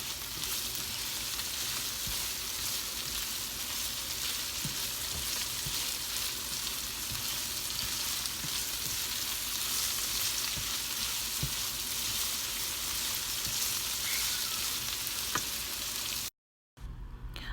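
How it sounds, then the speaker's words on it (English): Vegetables sautéing in a pan for Jamaican corned beef, a continuous even sizzle with faint occasional ticks and pops, close and steady, with a brief dropout near the end. "I'm just going to let these saute for 3 to 4 minutes and then add my corned beef to it"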